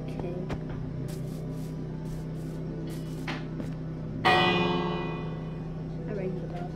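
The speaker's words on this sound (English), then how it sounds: "I rang the bell." A bell is struck in the video game Minecraft, a bright ringing onset with a shimmering tail that fades over a couple of seconds, heard over steady game background noise.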